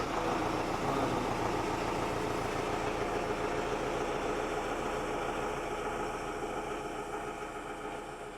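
A YTO 804-954 tractor engine, fitted with an extra fan, idles with a steady low rumble and even rhythmic pulsing that holds throughout and eases slightly near the end, with no talking.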